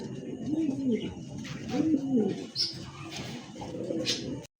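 Pigeons at a farm cooing close by, repeated soft throaty rolling coos in a steady rhythm, with someone talking faintly in the background.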